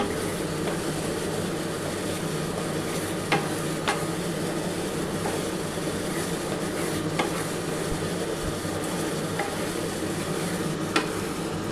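Bombay duck (lote fish) being stirred vigorously in a wok, a steady low sizzle and scraping with occasional sharp clinks of the spatula against the pan, close and continuous with no talking.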